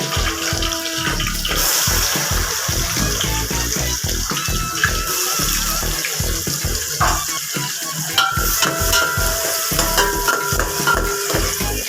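Onions frying in a pan with green chillies while making egg rice at home, a steady dense sizzle with stirring and scraping throughout, close and fairly loud, with no talking.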